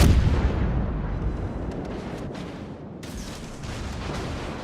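Naval video game battle near a battleship Iowa, with a heavy, rumbling boom of big guns at the start that decays into sustained low roaring and explosive noise, another burst arriving partway through.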